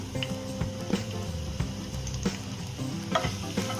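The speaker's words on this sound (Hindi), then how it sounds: "गैस का फ्लेम हाई रखेंगे। हम इसमें सबसे पहले गार्लिक डालेंगे," Garlic fries in two tablespoons of hot cooking oil in a pan over a high gas flame, giving a continuous crackling sizzle with light stirring clicks and scrapes; no talking.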